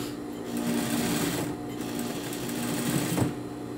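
A sewing machine stitches a hem on knit fabric, running in a steady continuous whir with brief slowdowns and restarts, fairly close and alone.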